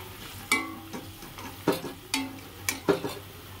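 Pieces of fish dropped into a pot of boiling curry sauce, several soft splashing thuds spaced about half a second apart over gentle bubbling.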